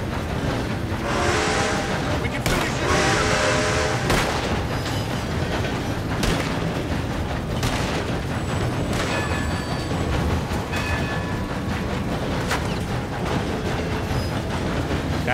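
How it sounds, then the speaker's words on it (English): A train rumbles continuously along the tracks in the video game Red Dead Redemption 2, a loud, steady clatter and roar with occasional heavier thumps and metallic clanks. "This is the slowest train ever."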